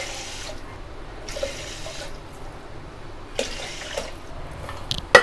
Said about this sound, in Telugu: నేను అదే కప్పుతో 4 కప్పులు వాటర్ పోస్తున్నాను.